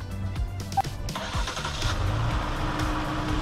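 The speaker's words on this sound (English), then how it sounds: "Start the vehicle." A car engine jump-started from a DeWalt power tool battery cranks briefly and catches, then settles into a steady running rumble close by.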